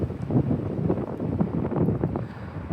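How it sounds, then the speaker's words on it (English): Gusty wind in a desert slot canyon on a cold day, buffeting a nearby microphone in uneven, rumbling surges, with no talking. "the wind is blowing frequently, and it is chilly."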